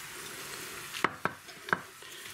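Cauliflower mushrooms (kozia broda) stewing in a pan with cream and butter give a faint, steady simmer, broken by three quick clacks of a utensil against the pan close by.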